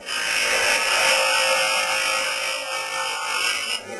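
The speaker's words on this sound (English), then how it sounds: "And then over here, we saw them up. So this is a special lapidary saw that we had built." A custom-built lapidary saw cuts steadily, giving a loud, high-pitched grinding whine that holds continuously with a slight dip near the end.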